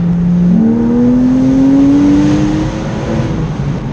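A loud Porsche Boxster Spyder engine revs steadily upward through a gear with the roof down, with strong wind rush and road roar close around it.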